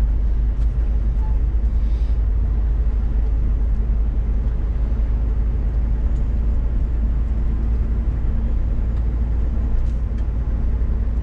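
A car with a broken headlight and a stone chip in its windshield drives along, its engine and road noise forming a steady, loud low rumble inside the cabin that continues without a break.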